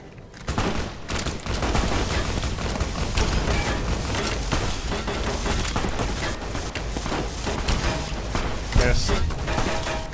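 Weapon fire in the video game Fallout New Vegas: rapid, dense bursts of loud gunshots continue almost without pause, echoing over a constant rumble.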